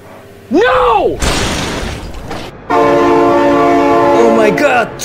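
Train in a car-crash video game with speedbumps and flatbed-trailer cars, a loud, blaring horn sounding twice with a roaring rumble and crashing clatter between blasts, close and intense, with excited voices over it.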